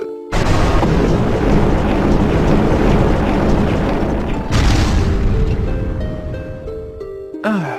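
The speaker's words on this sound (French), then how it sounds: "Je crois que ça souffle pour faire avancer cette boule de glace qui nous bloque." A strong gust of wind in a video game shoves an ice ball out of the way: a loud, broad rushing roar that holds steady, then surges again near the end.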